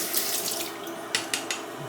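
Running water splashes steadily while whetstones are worked for honing on a Shapton 5k, 8k and a Cnat / C12K, a close, continuous wash with a few brief sharper spatters near the end.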